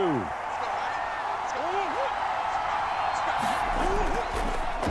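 Stadium crowd noise in a Madden NFL video game during a Cardinals vs. 49ers matchup, a steady broad roar of cheering under the action with a few whistling sweeps and thuds, no clear talk.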